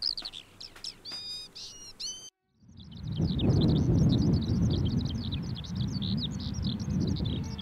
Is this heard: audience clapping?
no